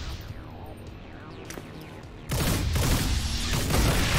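Burst of automatic gunfire aimed at a robot in the modded tactical game XCOM 2, a dense, loud volley that cuts in halfway through and keeps rattling to the end after a quieter stretch of ambience.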